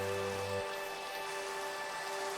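Rain in a video game, a steady hiss of falling drops under a constant electronic hum, with a low tone that cuts off early.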